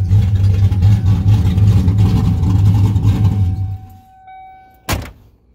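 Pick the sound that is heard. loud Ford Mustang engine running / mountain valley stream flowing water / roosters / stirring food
loud Ford Mustang engine running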